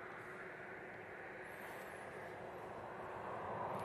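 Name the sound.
DHL cargo aircraft taxiing at airport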